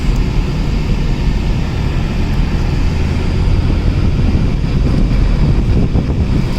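Steady engine and road rumble from a 2020 Maruti Suzuki Swift VXI, sharing the Ignis engine, while driving, a continuous low drone with wind-like hiss filling the cabin, no talk over it.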